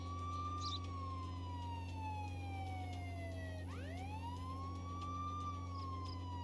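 A police car siren in the video game Contraband Police wails in long falling and rising sweeps, fairly faint and distant over a steady low engine hum, with no talking.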